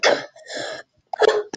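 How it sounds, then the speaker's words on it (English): Several loud, close coughs with throat clearing come in short bursts separated by a brief silence, with no talk. "I have a cough, so I'm gonna be coughing a bit."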